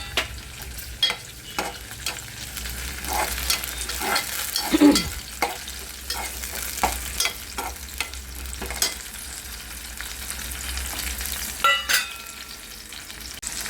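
Chopped onion and small green chillies fry in a pan for a spinach and pigeon pea dal dish, with a steady soft sizzle broken by repeated stirring scrapes and occasional clinks, with no talk.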